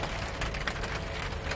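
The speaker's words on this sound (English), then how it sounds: "Here comes the rain now. Absolutely pouring down." Heavy rain pouring down outdoors, a steady dense hiss with scattered spattering drops throughout, moderately quiet and even, with no voices.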